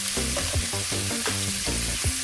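Prawns sizzle in a pan over a medium flame, a close, continuous hiss with rhythmic scraping from stirring running beneath it, and no voices.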